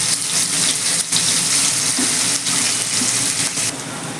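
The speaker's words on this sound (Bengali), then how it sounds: "পেঁয়াজটা দিয়ে দিচ্ছি" Thinly sliced onion hisses steadily in hot oil in a pan while fish kalia is being cooked. The sizzle is loud, continuous and close, with faint clinks now and then and no talking.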